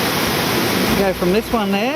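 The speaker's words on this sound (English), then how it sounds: "it's just waterfalls all the way around us" Waterfalls surrounding a gorge pour as a loud, broad, constant roar, with someone talking over the rushing water partway through.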